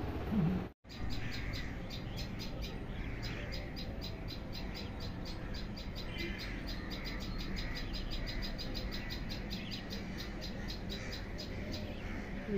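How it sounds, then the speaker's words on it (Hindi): Sparrow chicks and crows around a nest, with dense, continuous high chirping and calling from small birds throughout, broken by one brief dropout near the start, over a busy outdoor background. "कौए बार बार आ रहे हैं, बच्चे घोंसले में से बाहर निकल निकल के आ रहे हैं।"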